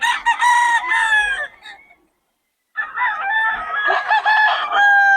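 Roosters crowing loudly and close in Bocaue, one long crow, a short pause, then another overlapping crow.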